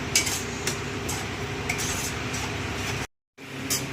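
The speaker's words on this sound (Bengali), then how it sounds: "যতক্ষণ এরা না টানবে, জল শুকিয়ে না যাবে, ততক্ষণ অবধি আমি নাড়তে থাকবো।" Spoon stirring curry with turmeric in a pan as the water cooks off, with steady scraping and clinking against the metal over a continuous sizzle and a brief drop to silence near the end.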